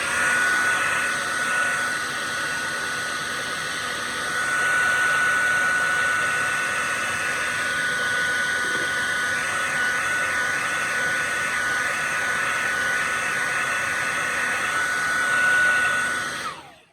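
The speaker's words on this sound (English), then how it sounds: "Hair dryer" A hair dryer blows continuously for the whole stretch, a loud steady whirring rush with a faint high whine, cutting off abruptly at the end.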